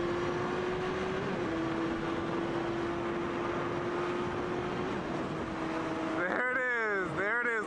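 A Dodge Hellcat drives along with a steady engine drone and road noise, then a sharp burst of rising and falling engine revs near the end.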